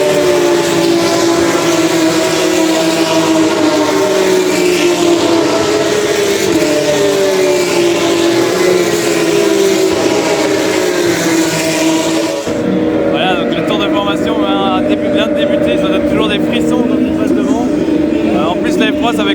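Formula 3 race car engine at the Belgian Grand Prix before a sprint race, a loud steady droning exhaust with crackling pops, heard alongside ongoing talk; the sound shifts abruptly midway.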